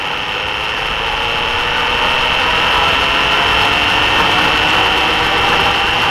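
Homemade boat propeller spinning fast on a test rig, a loud, continuous broadband whir with a steady tone, close up and unbroken throughout, no voices.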